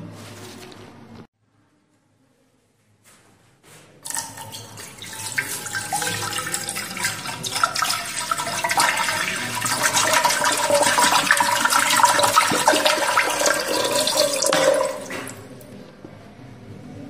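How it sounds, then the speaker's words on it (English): Water from a one-liter can pours steadily into an autoclave chamber, a continuous close splashing rush lasting about ten seconds after a brief quiet start, then tapering off. "So now I am going to pour this water completely into my autoclave machine."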